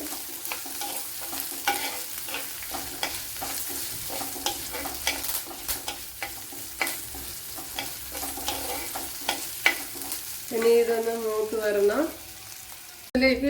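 Green chillies frying in a hot pan for beetroot thoran, a continuous close sizzle broken by repeated stirring scrapes and clicks, with a brief louder burst of crackling toward the end.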